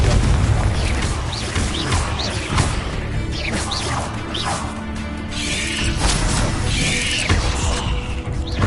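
Confringo blasting curse in Hogwarts Legacy, a dense barrage of loud crashing blasts, whooshes and impacts piling up continuously over several seconds amid a busy fight.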